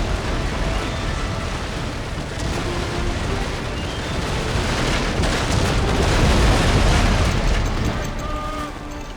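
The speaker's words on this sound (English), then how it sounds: "Yeah, that was my other broadside that I just took." A ship's cannon broadside fires in the Empire Total War naval battle, a loud, dense rumble of booms rolling on for several seconds and swelling midway.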